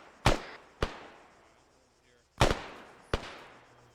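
Gunfire in the military video game Arma 3 during platoon training: four sharp, loud shots in two spaced pairs, each cracking out and decaying quickly, with no voices heard.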